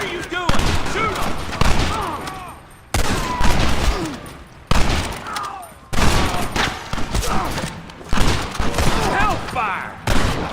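Loud, rapid gunfire in a Red Dead Redemption shootout, with repeated bursts and volleys cut by short gaps while voices shout over the shooting.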